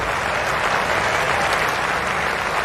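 Loud, dense crowd applause rolls steadily around a cricket ground during a 1996 England versus Pakistan one-day international at Old Trafford, close and continuous with no voices over it.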